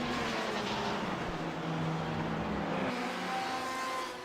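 Prototype race car engines droning on the Daytona circuit in a sim racing game, a loud continuous engine roar that shifts pitch as a car passes and fades slightly at the end.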